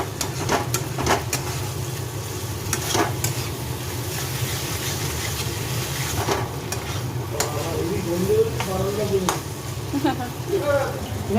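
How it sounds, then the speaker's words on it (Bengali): Fried egg being stirred and sautéed with masala in a pan, a steady sizzle with scraping stir strokes throughout, fairly close and moderately loud. "এবার ভাজা ডিমটা দিয়ে মশলা দিয়ে ভালো করে কষিয়ে নেবো"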